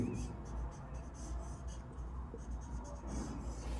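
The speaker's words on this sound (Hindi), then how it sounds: "फिर से लिखते हैं राहुल इज प्लेइंग" Chalk or marker strokes on a classroom board scratch in short bursts, close and fairly clear, while a teacher keeps talking over them throughout.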